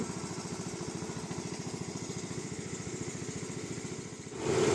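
A Komatsu PC 71 excavator's diesel engine runs steadily while loaded on a trailer, a close, even rhythmic chug that swells louder at the very end.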